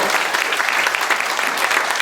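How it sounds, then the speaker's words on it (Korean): A brief burst of loud, dense audience applause at a Korean city council member's public report meeting, with many hands clapping evenly throughout and no speech. "박수 한번 주세요"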